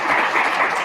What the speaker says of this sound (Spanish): Quiero solicitar un gran aplauso